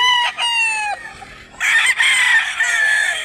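Roosters crow loudly and close at a chicken sale in Mantalungon, Barili, Cebu, with several harmonic crows in a row and clucking fowl around them.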